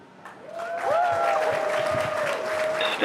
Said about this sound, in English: if you can hear that cheering, everyone here at Hawthorne is very excited.